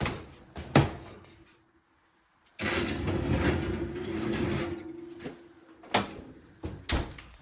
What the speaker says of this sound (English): now we're just going to put it in the oven